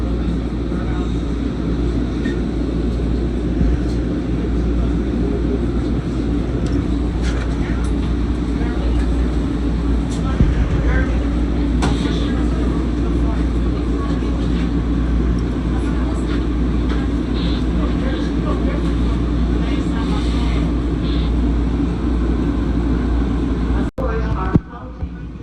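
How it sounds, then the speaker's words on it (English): Steady rumbling ride aboard a SEPTA Market-Frankford Line subway train, a continuous loud low drone of wheels and motors with occasional rattles and a sharp clunk near the end. "69th Street train making all stops."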